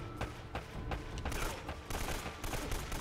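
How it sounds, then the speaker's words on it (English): Bursts of gunfire from a shootout in the video game Uncharted, with rapid overlapping volleys that start and stop in clusters over about three seconds, loud and close. "See if you could just stop shooting me in general."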